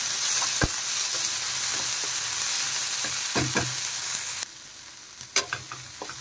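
Steady sizzling of spices and capsicum frying in a pan, with scattered clinks and scrapes of stirring; the sizzle drops quieter near the end.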